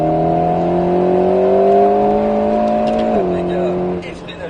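An Alpine A110 S lapping a race circuit under braking, its engine note holding a steady tone and then dropping sharply near the end as the car slows, loud and close throughout, with a voice coaching over it.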